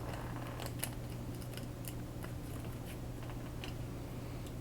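Scissors snipping into crinkly chip packaging around a wire, with a few sharp cuts and light crackles over a steady background hum, close and fairly quiet.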